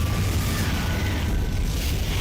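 A loud, sustained blast from the Confringo fire spell in a Hogwarts wizarding game, a dense roaring burst with heavy low rumble that fills the whole moment without any voice.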